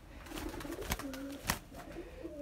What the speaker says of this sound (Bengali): এই যে এখানে একটা নেশাদা কবুতর আছে